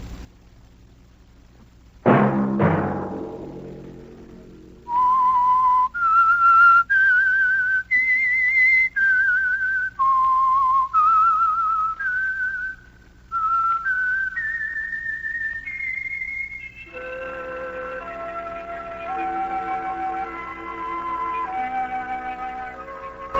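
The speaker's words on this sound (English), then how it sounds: "Let that whistle be your signal for the Whistler each Sunday night at the same time." A sharp percussive hit opens, then a lone whistler carries a slow, clear ascending signal tune of held notes, loud and near. A second, lower whistle joins in harmony toward the end, with no voices.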